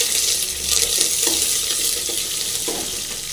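Black pepper, chilies and cumin sizzle steadily in hot oil for tomato rasam while being stirred, a close, continuous frying hiss with soft scraping under it.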